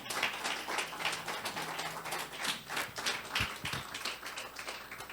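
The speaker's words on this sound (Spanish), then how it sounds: "Yo quiero que usted le dé un aplauso al Señor en esta hora." A church congregation at a Christian leadership workshop applauds, producing rhythmic, fairly close clapping with uneven pulses and light taps throughout.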